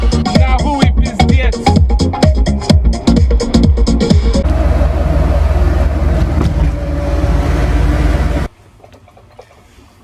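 A Lada VAZ 2101 drives in hot South Florida weather, its engine drone and road noise steady and close for most of the stretch, with rhythmic thumps early on, before cutting off to quiet near the end.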